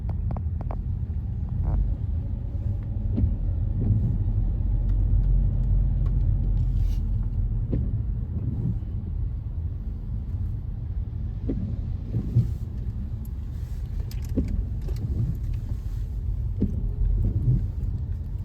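Steady low rumble inside a car driving through London, a constant deep road and engine drone with faint creaks and small knocks over it, continuous and close.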